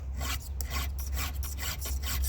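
A chainsaw rip chain is sharpened with a file, giving steady rasping strokes in a quick back-and-forth rhythm, close and loud over a constant low hum.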